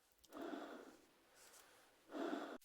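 Breathing inside a space suit in the 2004 PC game 7 Days a Skeptic: two slow, close, hollow breaths, each a swelling whoosh, separated by a quieter pause.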